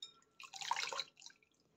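Cut bitter gourd being rinsed in water, giving a soft burst of splashing and dripping that swells in the middle and fades, close and fairly quiet with no talk.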